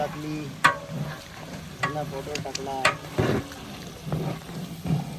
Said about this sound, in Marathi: लसूण खाली चिकटू नये म्हणून आपण वारंवार त्याला ढवळतोय